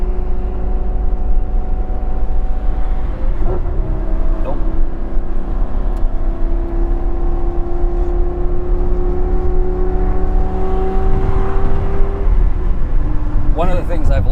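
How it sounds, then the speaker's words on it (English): A Lamborghini Gallardo Nera engine hums steadily at highway cruising speed with a low, even drone and slight pitch shifts, close and continuous, with faint speech over it. "it's good to get a car that sounds awesome when just cruising around"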